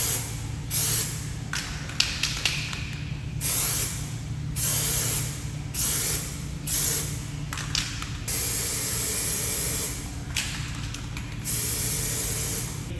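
Plasti Dip aerosol sprayed onto a car's side trim in a series of short hissing bursts separated by brief gaps, close and fairly loud with no talk.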